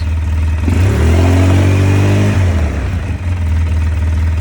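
A 2005 Polaris Sportsman 700 ATV engine runs with a freshly replaced fuel pump, idling loud and close with a steady low hum, then briefly revving up and settling back to idle.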